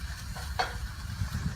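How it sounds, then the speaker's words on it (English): A spoon stirs a burger gravy mixture with ground beef in a pan, giving soft, quiet scraping strokes over a faint, steady sizzle. "you spread it around, and then you want to stir it until it's all mixed up"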